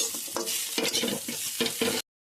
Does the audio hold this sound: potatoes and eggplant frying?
yes